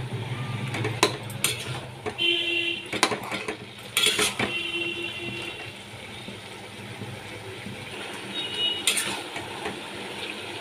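A utensil scrapes and clinks against a pan as hilsa fish head is mixed with ash gourd, cooked without added water: irregular metallic taps and knocks with bright ringing strikes and soft stirring in between, close up.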